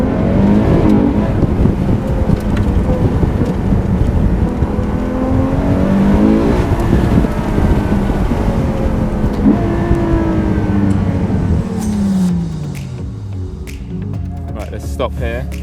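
A Ferrari SP2 Monza drives on snowy mountain roads, its engine note rising and falling through gears with tyre hiss on the wet surface, while people talk over it.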